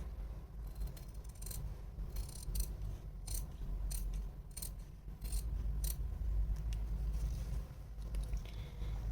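Scissors snip through canvas for a churidar neck, a run of close, crisp cuts in an irregular rhythm over a low background rumble.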